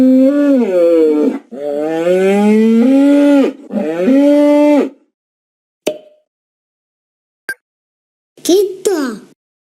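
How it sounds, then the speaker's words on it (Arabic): A bull moos three times in long, loud, drawn-out calls, then after a quiet stretch with a couple of faint clicks lets out one shorter moo. "ثور"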